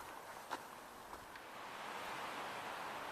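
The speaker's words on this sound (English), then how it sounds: "Hear that wind?" Steady broadband wind rushing through big trees along a Pacific Crest Trail hiking path, swelling slightly louder toward the end, with a couple of faint footstep-like thumps early on.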